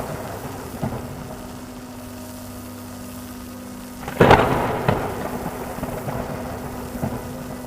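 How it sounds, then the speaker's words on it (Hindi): A sudden strong storm brings a sharp crack of thunder that rumbles away over a steady wash of heavy rain and low background hum. "तभी अचानक तेज आंधी आई, फिर झमाझम बारिश शुरू हो गई।"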